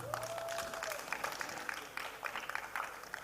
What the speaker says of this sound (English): We can at least clap for them